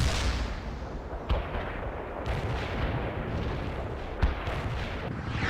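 Artillery fire support in the real-time strategy game World in Conflict: a continuous roar of distant bombardment and rumbling blasts, with a few sharper booms standing out above the steady barrage.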